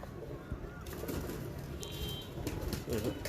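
Pigeons coo softly amid a busy outdoor background, with low rumbling noise and brief chirps from other birds.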